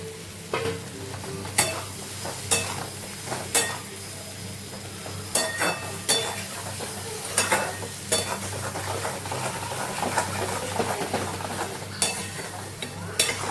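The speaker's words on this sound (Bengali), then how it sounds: "এবার আমি ডিমগুলো দিয়ে কষাবো" Eggs being stirred and fried in tomato masala in a pan, a constant sizzle under repeated spatula scrapes and knocks against the pan at an irregular rhythm, close and fairly loud; no talking.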